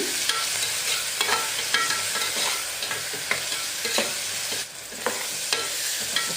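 Onions frying with salt in a pan for a mango mutton curry, a constant loud sizzle broken by repeated scraping strokes of a spoon stirring, with no talking.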